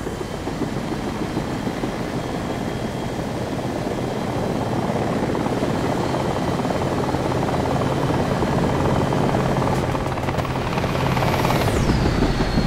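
An attack helicopter in the video game War Thunder thumps with a loud, continuous rotor drone that holds steady and swells slightly, ending with a short descending whine.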